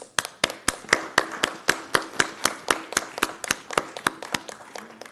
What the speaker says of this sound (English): And then, of course, to Dr. Franco, a round of applause.